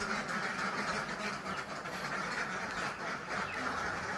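A pen of about forty laying ducks on an egg farm gives off a dense, continuous chorus of quacking, loud and close with no talk.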